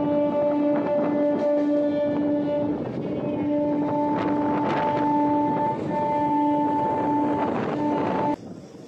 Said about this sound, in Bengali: এই মুহূর্তে আমাদের সাথে দেখা হয়ে যাবে train number 130/12 Malda town Howrah intercity SF express